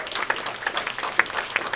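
Audience applause at a San Francisco tech week demo night breaks out after a presentation, a dense, steady patter of many hands clapping together for nearly two seconds with no voices over it.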